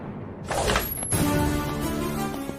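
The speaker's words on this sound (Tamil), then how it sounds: "இப்ப எதுக்கு கதவை உடைக்கிற மாதிரி திறந்துட்டு வரீங்க?" A door being forced open indoors, a sudden loud burst of knocking and rattling followed by a sustained creaking, grinding mechanical sound as it gives way.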